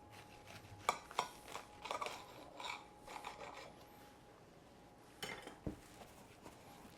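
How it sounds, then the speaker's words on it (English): A knife sawing through a BLT sandwich with avocado, a few quiet rasping strokes and crunches of toasted bread in short bursts, faint and close, with a pause in the middle before a final cut. "we're going to take a knife and we're going to cut it in two"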